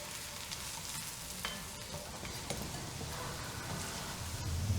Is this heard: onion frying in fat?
yes